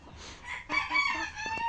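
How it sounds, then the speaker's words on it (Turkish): A rooster crows close by with clucking hens around it, a short burst of farmyard fowl sounds. "Şöyle tavuklar da var."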